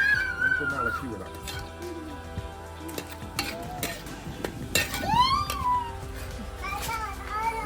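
Chicken sausage roast cooking outdoors in a pan as the lid comes off and a spoon stirs, with soft sizzling, scraping and clinks heard under steady talk and children's voices nearby.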